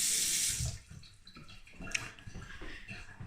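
Water runs from a bathroom sink faucet in a newly renovated bathroom, a strong close splashing flow at first that drops to a softer trickle with small drips and clinks.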